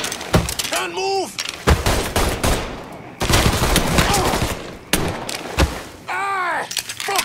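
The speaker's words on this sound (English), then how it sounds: "Fucker won't stop shooting!" Repeated gunfire bursts in Mafia III erupt in loud clusters of sharp shots and rattling fusillades, interspersed with shouting voices during a chaotic firefight.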